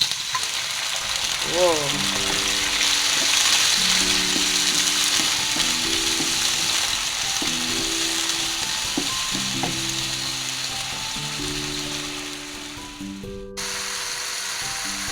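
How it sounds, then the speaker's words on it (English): A black squid stir fry sizzles loudly and steadily in a pan up close, with a brief exclamation from someone and tonal scraping and clanking sounds from the pan and utensil. "now this is our black squid stir fry."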